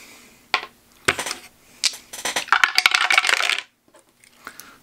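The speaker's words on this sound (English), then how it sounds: "And then roll your dice." Three six-sided dice for a D&D character are rattled and rolled, a loud close burst of clattering plastic knocks and tumbling that settles into a few faint final taps.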